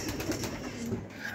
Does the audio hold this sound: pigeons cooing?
yes